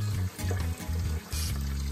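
Tap water runs and pours steadily over hog maws being rinsed clean in a sink, splashing with brief dips and surges, close and moderately loud.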